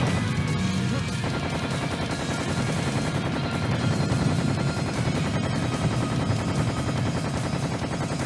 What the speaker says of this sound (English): you're just stuck with a Tommy gun